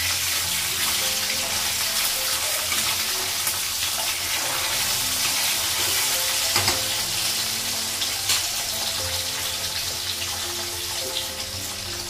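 Two pieces of fish bubbling and frying in oil in a home kitchen, a continuous moderate sizzle with soft popping and spattering, alongside a few faint clinks of utensils, and no voices.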